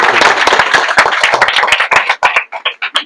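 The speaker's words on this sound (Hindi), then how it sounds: "जोरदार ताली में एक बार।" A small group claps for an Indian Railways ticket examiner, a brisk burst of loud, close handclaps that starts dense and thins over three seconds into a few separate, slower claps.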